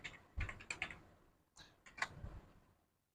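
Keystrokes on a computer keyboard as a command is typed, two close bursts of quick, light clicks separated by a short pause, with no one speaking.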